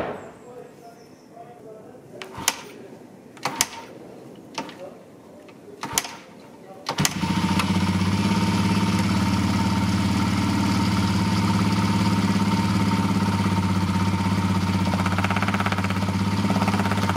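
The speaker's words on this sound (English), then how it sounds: "Right, let's start the bike." A Yamaha TTR125 motorcycle engine cranks with a few sharp clicks and knocks, then fires up and settles into a steady, loud idle that runs without a break for about ten seconds.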